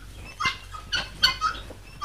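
Guinea fowl on a farm in Jamalpur giving a series of harsh, rasping calls in short bursts, moderately close over a faint background hum.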